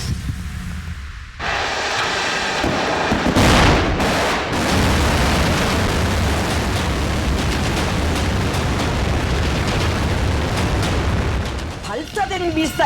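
A North Korean ballistic missile launch, a sudden loud roaring blast after a quiet start that swells into a sustained rumbling thunder. It persists for several seconds before fading.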